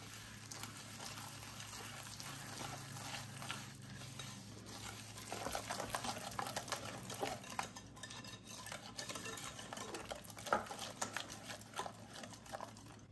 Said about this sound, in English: we'll mix that together until it's combined